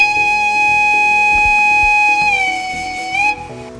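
A steady, piercing electronic train whistle from the sound decoder of an ACME 50843 Gran Confort WR model dining car, held loud and close for over three seconds, dipping slightly in pitch near the end before stopping.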